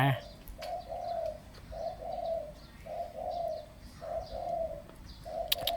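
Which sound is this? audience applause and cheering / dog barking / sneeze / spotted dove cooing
spotted dove cooing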